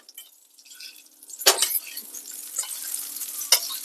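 Salmon cooking in butter in a hot pan while being basted, a light crackle punctuated by a couple of sharp spoon splashes and scrapes, close and without talk.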